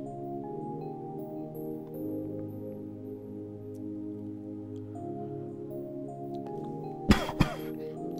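Two short, sharp coughs close together near the end, loud and close, following a stretch of steady layered tonal background sound from a game.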